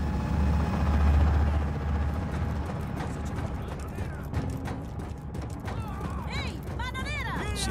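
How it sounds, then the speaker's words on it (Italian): A helicopter in the video game Just Cause 4 flies with a steady low rotor rumble and mechanical whir, joined by game ambience and later some bright chirping tones, with voices heard at moments. "Un elicottero della mano nera."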